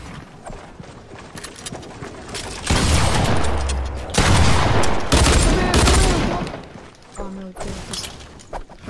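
Rapid bursts of dual pistol fire from a shooter video game, loud clustered volleys coming in several waves, with a player talking throughout.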